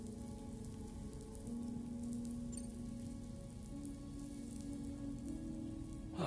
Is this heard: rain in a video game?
yes